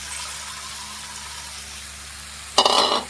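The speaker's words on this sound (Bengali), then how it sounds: "এটা দিয়ে কিছুক্ষণ নাড়াচাড়া করে কষাবো, তারপরে নাড়াবো" Ash gourd curry sizzling steadily in a hot pan, a constant frying hiss that ends in a short burst of stirring scrapes near the finish.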